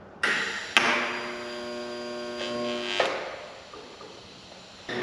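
A steady buzzing arc from tack welding motor mount brackets for a diesel engine swap in a 1930 custom pickup truck, with two close bursts lasting a few seconds each and a brief start at the end.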